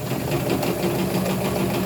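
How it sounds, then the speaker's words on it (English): A sewing machine runs a zigzag stitch through knit fabric, giving a steady, close, continuous mechanical whir with a fast rhythmic needle chatter throughout and no talking. "now I'm going to use a zigzag because zigzag will stretch with knit"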